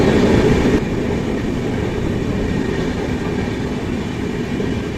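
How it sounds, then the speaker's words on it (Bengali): A train runs through a tunnel, a loud, steady rolling rumble that fills the whole stretch with no pauses and no voices. "টানেলের মধ্যে দিয়ে আমরা ট্রেন চলেছে।"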